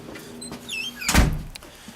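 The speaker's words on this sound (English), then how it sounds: "Lock the door." A door is shut and locked at an excavation project site, with a short squeak followed by a single loud thud and rattle, heard alone.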